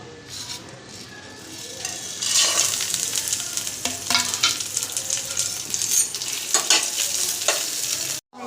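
Whole spices, cardamom, dried chilli, cinnamon, star anise and nutmeg, sizzle steadily in hot oil, broken by scraping stirs and light clinks of a utensil against the pan.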